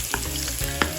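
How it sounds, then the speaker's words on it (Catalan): Shrimp fritter batter frying in hot oil, a close, busy sizzle with crackling bursts and a couple of sharp pops, no voices. "I ara ho deixarem fregir."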